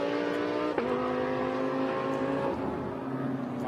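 GT race car at night practice on the Kyalami circuit, engine droning loud and steady with a sharp gear change shift in pitch, sustained close roar throughout.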